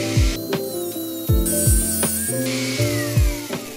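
A power tool cuts along a line in the plastic casing of a large 15Ah tool battery pack, whining in repeated pitch-dropping bursts as the blade bites and eases off, loud and close with no talking.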